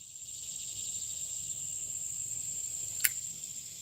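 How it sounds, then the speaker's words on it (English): A steady, high-pitched drone of cicadas fills the background and stays even throughout, with one brief sharp tick near the end. "You can hear the cicadas doing their thing."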